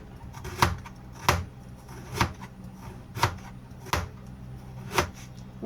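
A knife chops steadily on a board, six firm even strokes about a second apart, close by with faint background hum.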